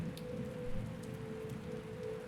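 Steady rain falls in the Rain World video game, a continuous hiss of drops under a low sustained hum, with no talk.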